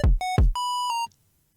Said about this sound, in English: Starting off with a beep boop and a bang.